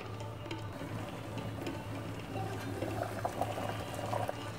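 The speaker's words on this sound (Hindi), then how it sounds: "पानी में उबाल आ चुका है" Water bubbles and simmers in a pot before Indian gooseberries are added, a soft, continuous burble over a low steady hum.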